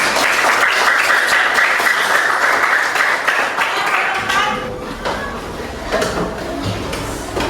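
Schoolchildren applauding together in a classroom, a loud sustained patter of many small hands that carries on for several seconds, then thins and softens toward the end with a few scattered claps.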